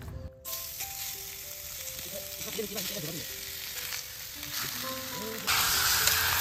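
Meat fries in a kadai with a constant close sizzle. Faint tonal sounds drift in the background, and the hiss swells louder near the end.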